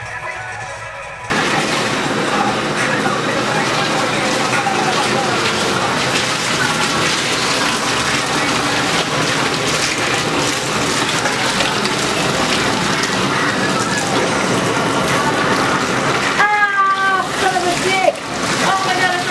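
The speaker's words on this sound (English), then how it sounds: "Washing your hair after you get bleach in it." Steady water gushes from a tap while bleached hair is rinsed at home. The broad rushing flow runs loud and continuous for most of the stretch, and a voice briefly breaks in near the end.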